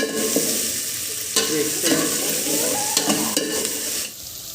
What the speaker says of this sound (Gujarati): હવે નાખી દઈશું આપણે કંકોડા અને ડુંગળી તો આવી રીતે વઘાર કરું છું